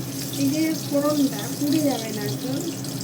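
Water pours steadily into a cooking pan on a switched-off gas stove while preparing a mustard fish curry, a continuous close splashing stream with a faint voice murmuring beneath it.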